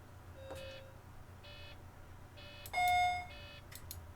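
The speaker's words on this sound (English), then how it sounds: "We'll have a listen to the stop sound." Stop-request chimes on a Volvo 7700A city bus in the OMSI 2 simulator ring out as several short electronic dings, one longer bright tone partway through, heard close and clear over a low engine hum.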